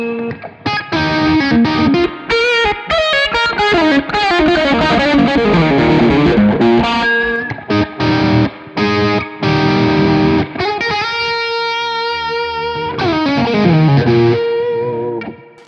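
Electric guitar played through a Tech 21 Trademark 60 amp with the drive turned up, giving a loud, continuous distorted tone of sustained chords and ringing melodic lines, heard alone without talk.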